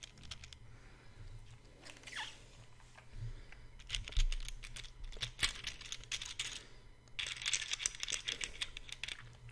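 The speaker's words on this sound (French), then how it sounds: "Je peux faire comme ça des petits bruits avec les morceaux de plastique." Small pieces of plastic crinkle and clatter close to a binaural microphone in bursts of fine crackling, with quieter pauses between.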